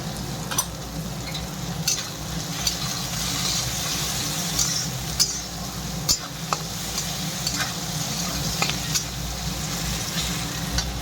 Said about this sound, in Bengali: একটু ভেজে নিই।